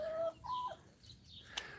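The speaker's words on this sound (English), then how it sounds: "Now here's chickens." Chickens on an alpaca farm in Clovis, New Mexico cluck and squawk quietly in a few short calls, ending with one sharp higher note.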